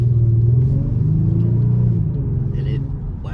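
A Kia Stinger with an 8-speed torque-converter automatic drives along, its engine a low steady rumble from inside the cabin that eases slightly toward the end, with someone talking throughout.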